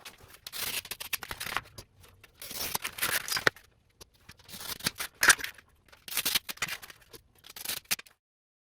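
Scissors cut out a cardboard template for a bunk window in a Sprinter cargo van, with close, repeated crisp snips coming in quick clusters and short pauses between strokes.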